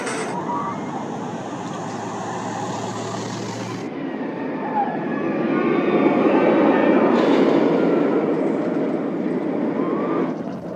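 A roller coaster train at Six Flags Magic Mountain rumbles and clatters along its track nearby, a sustained roar that swells toward the middle, with a couple of brief high squeals and faint voices underneath.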